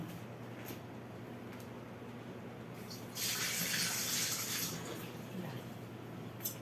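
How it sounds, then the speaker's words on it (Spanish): Excess water is poured out of an Olla Percutti pot holding beans; a low steady watery background swells into a louder gushing pour for about a second before easing back, with faint talk. "Ay, vamos a sacarle agua."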